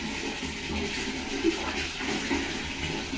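Hot water is poured during a bath, making a steady, faint splashing and running sound with a couple of brief louder splashes.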